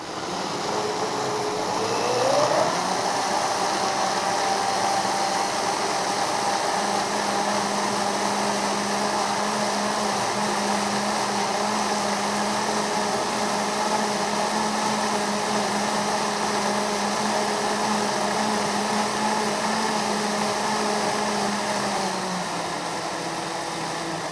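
A Vitamix blender blending carrots runs as a loud, continuous whir that climbs in pitch as it speeds up in the first few seconds, then holds steady close by before easing off near the end.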